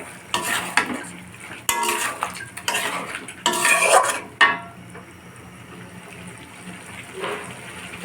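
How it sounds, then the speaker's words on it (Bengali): Whole spices (bay leaf, garam masala, cumin and black pepper) hit hot oil in a home kitchen pan, giving a few bursts of crackling and clinking with a utensil, then quieter sizzling and stirring nearby, with no talk. "তো তেলে আমি ফুটিয়ে দিচ্ছি তেজপাতা, দুটো গরম মশলা, সামান্য জিরে আর গোলমরিচ।"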